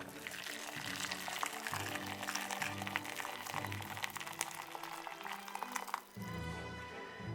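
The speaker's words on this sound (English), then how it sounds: "I'm just going to add some boiling water" Boiling water poured from a kettle into a jug of stock cubes, a steady close splashing stream that carries on for about six seconds and then cuts off sharply, with kitchen background hum underneath.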